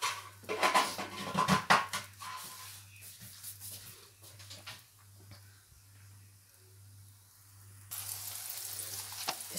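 Flatbread laid on a hot tawa griddle gives a soft steady sizzle after some clattering of utensils, with a brighter hiss rising in the last couple of seconds over a low hum.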